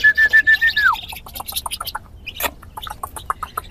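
White-breasted waterhens call up close: first a long even whistle that drops at the end, then a quick run of sharp, clucking chirps, loud and free of other sounds.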